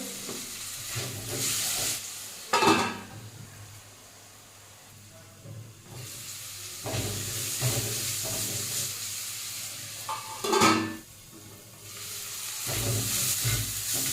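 Chopped capsicum, garlic and green chili with a pinch of turmeric fry in a pan, giving a steady sizzling hiss broken by a few louder bursts as the vegetables are stirred and tossed.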